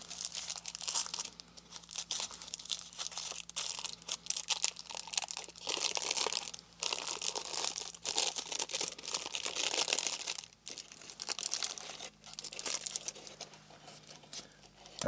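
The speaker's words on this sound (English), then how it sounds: "It's in like a wax paper." Wax paper crinkling and crumpling as it is unwrapped from oily gauze in a 1941 WW2 German Wehrmacht first aid kit, close, bursty rustles with short pauses and a faint low hum beneath.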